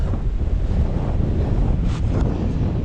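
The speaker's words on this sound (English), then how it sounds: "getting out on an e-bike in the wind, because it takes the wind away" Strong gusting wind buffets the microphone in a steady roar while riding an e-bike outdoors on a blustery day, continuous and loud with no talk.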